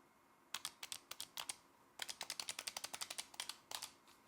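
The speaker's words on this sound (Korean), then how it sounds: "이 버튼들 중에 범퍼키입니다. 다른 버튼들에 비해서 이 클릭감 자체가 달라요." Bumper buttons on a Turtle Beach Atom mobile controller clicked repeatedly, sharp close mouse-like clicks in quick bursts with short pauses between runs, alone in a quiet room.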